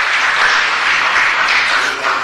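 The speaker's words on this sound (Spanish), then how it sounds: "Hay que darle un gran aplauso." Loud, sustained applause from the audience at a Los Angeles city council meeting, a dense, even wash of many hands clapping that carries without break, with no talk over it.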